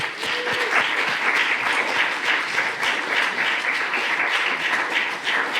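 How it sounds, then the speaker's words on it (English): Graduation ceremony audience gives a sustained round of applause, many hands clapping in a steady wash, moderately loud and unbroken, with no talk on top. "let's give a huge round of applause to everyone"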